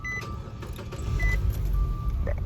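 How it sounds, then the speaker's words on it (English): A small 100 horsepower car engine, already warm, turns over and settles into a low, steady idle, rumbling close by with a faint whirring mixed in. "warm startup on this little 100 horsepower car"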